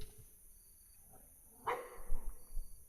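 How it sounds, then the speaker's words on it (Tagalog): A single distant dog bark sounds once in a quiet room of an abandoned school, followed by faint low rumbles and shuffling. "Shit, may aso."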